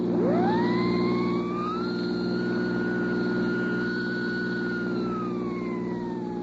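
A wailing police siren in a radio drama rises sharply then holds a long steady tone before sliding down, over a constant low engine hum from a getaway car driving hard.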